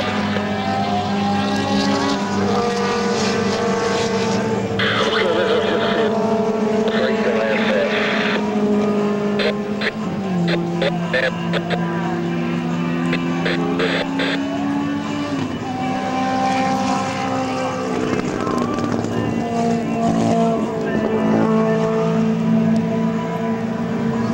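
A P-40 Warhawk's V-12 piston engine roars at an airshow, a loud sustained drone whose pitch rises and falls as the fighter makes passes, with a rumble of Doppler shifts and distant crowd noise.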